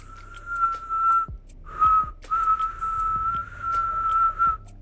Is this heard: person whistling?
yes